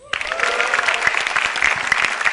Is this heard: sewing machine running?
no